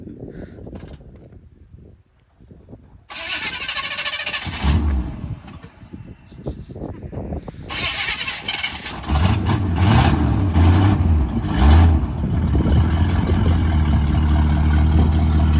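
An old, tired squarebody truck cranks over, catches and settles into a loud, steady rumbling idle up close, with a few bumps in engine speed and mechanical rattles.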